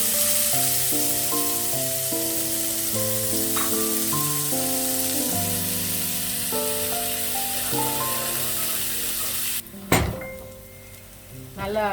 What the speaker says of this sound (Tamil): இப்படி வதங்குற வரைக்கும் நல்லா ஸ்டர் பண்ணிகிட்டே இருங்க.